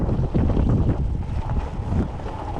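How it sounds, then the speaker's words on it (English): Strong wind roars across the microphone at an inshore lagoon, a dense, constant low rumble and buffeting that stays loud throughout with no voices. "Trying to find a spot somewhat protected from the wind here."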